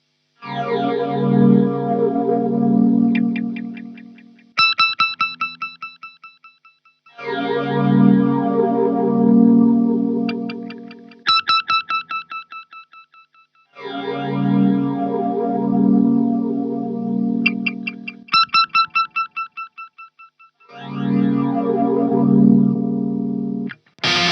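Electric guitar swelling in four times with distortion and chorus, shimmering bright tones between swells, ending on a crunchier distorted chord; no talking.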